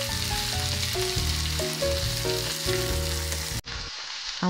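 Chopped onion and tomato sizzle steadily in a pan, a close, continuous frying hiss under faint background music, with a short break near the end.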